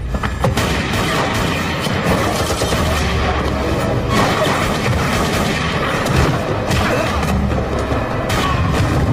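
Heavy gunfire and explosive booms from an action film fill the whole stretch, a dense, loud barrage of shots and blasts layered over a thick score-like rumble, with no talk.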